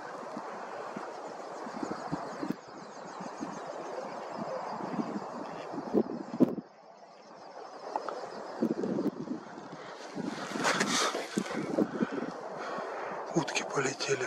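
Wind rumbles and buffets the microphone outdoors, low and uneven, with a person talking over it at times.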